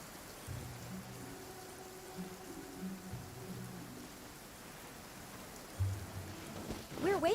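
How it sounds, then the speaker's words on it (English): Steady rain falls in a courtyard in the video game Genshin Impact, a soft continuous patter under a low voice that murmurs through most of the stretch. "I love listening to the rain from the courtyard"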